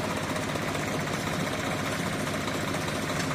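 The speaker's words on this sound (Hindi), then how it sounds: "वो देखिए आप भाई, 746 ट्रैक्टर" A Swraj 746 farm tractor engine runs steadily outdoors, a loud continuous diesel rumble with a knocking, vibrating texture and no pauses.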